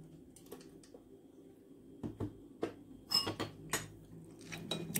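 A spoon scrapes and clinks against a bowl as natural Greek yogurt goes in for an eggless date, walnut and coffee cake, in several close, sharp knocks and taps over a quiet kitchen.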